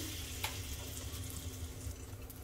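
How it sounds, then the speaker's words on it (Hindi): Asafoetida dropped into hot ghee for a tadka gives a quiet, steady sizzle and crackle, faint and close, with a low background hum and no talking. "तेल गरम हो चुका है, इसमें डालेंगे हींग।"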